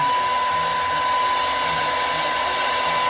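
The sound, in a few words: hair dryer blowing on cool, low setting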